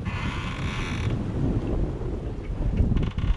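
Wind gusting across a sailboat under full sail with the motor off, a steady loud rush with faint creaks of rigging and hull running throughout, no voices.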